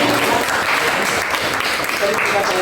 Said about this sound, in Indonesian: Beri tepuk tangan dulu untuk Murni.